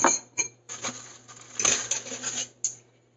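Food going into a skillet, with light metallic clatter and tapping from the pan in short, uneven bursts, fairly close and moderately quiet, with no talk.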